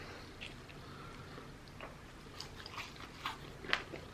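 Close-up crunching and chewing of McDonald's fries, a handful of crisp bites and soft mastication scattered over about four seconds, fairly quiet with no talking.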